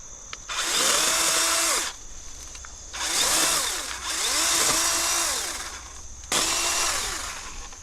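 A DeWalt battery chainsaw with an angled bar is trimming trees on rural property. Its motor revs in three loud bursts, each winding up and down under load, with short quieter gaps between them.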